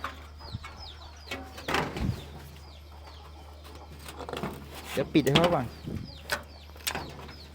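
Fighting cocks clucking and crowing on a chicken farm near a rural house, with scattered bird calls and a steady low hum while someone talks nearby.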